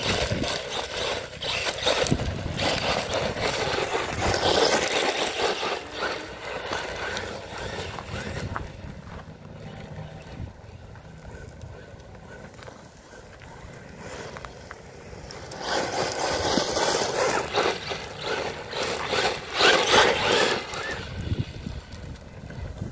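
An Arrma Typhon 3S RC car driving during an outdoor bash session, heard as bursts of rough, gravelly rushing noise that ease off in the middle and surge back loudly toward the end, with no talking.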